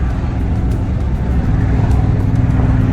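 A Nissan Titan truck fitted with a Flowmaster Super 10 muffler sends out a loud, deep, steady exhaust rumble close by, a continuous low drone that holds for the whole moment without pause.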